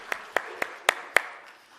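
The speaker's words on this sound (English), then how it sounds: "If you have a round of applause to welcome Elizabeth." A handful of sharp, separate claps spaced about evenly apart, sparse and thin like a small scattered group applauding briefly.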